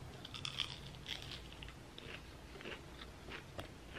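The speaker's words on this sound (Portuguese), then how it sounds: "E esse bolinho aqui tá muito crocante." Crunchy fried snack ball bitten and chewed up close, a quiet series of crisp crunches repeating in an irregular rhythm, with no talking.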